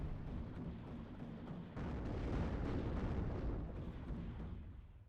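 Mortar and artillery explosions in the real-time strategy game WARNO sound as a continuous rumbling barrage, with a sharp jump in loudness partway through, and dense overlapping booms that never fall silent.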